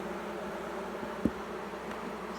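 Bees around an open beehive make a steady, low, continuous hum that fills the whole clip at an even level, with one brief soft thump partway through and no talk.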